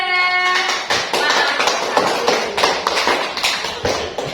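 A classroom of children claps for a group of pupils. Sharp, uneven claps repeat in bursts, loud and close, after a brief sung note at the start.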